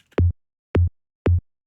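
Three identical synthesized tom drum hits, evenly spaced about half a second apart, each with a punchy low body and a short LFO-driven wobbling pitch sweep, alone with no talk.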